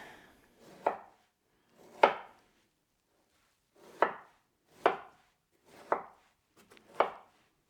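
Peeled, seeded fruit being cut into chunks with a knife, six separate soft thuds against a board at uneven intervals, close and quiet with silence between cuts.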